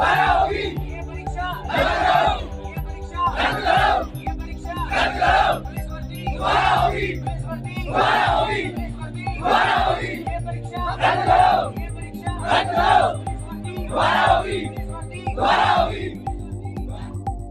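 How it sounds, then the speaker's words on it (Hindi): A large crowd of police recruitment candidates shouts protest chants in steady rhythmic bursts, about one every second and a half, loud and close throughout. "ये थी अभ्यर्थियों की भीड़ जो सरकार से स्पष्ट तौर पर कह रहे थे कि इस परीक्षा को कैंसिल किया जाए"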